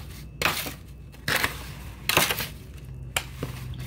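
Ingredients for hot dog burnt ends, sauced with Sweet Baby Ray's, being stirred together in a pan, giving several distinct scraping clanks and clatters at uneven intervals, close and fairly loud over a quiet background.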